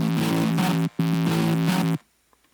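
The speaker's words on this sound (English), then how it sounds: "this is with the sub oscillator enabled" A buzzy synth bass with its sub oscillator switched on plays a thick, distorted sustained note, cutting briefly, returning for about a second, then stopping abruptly into near silence.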